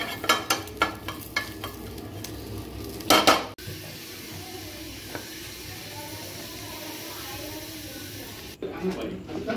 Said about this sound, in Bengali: তাই নিম পাতা একটু ভেজে নিচ্ছি